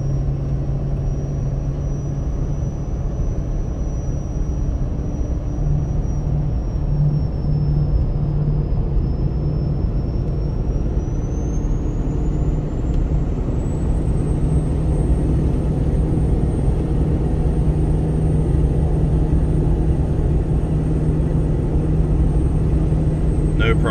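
A Ford 6.7 Powerstroke diesel pickup with an MPD compound turbo kit pulls a long 8% mountain grade in fourth gear at steady speed, a loud constant cabin rumble and engine drone with a thin turbo whine rising slightly over time.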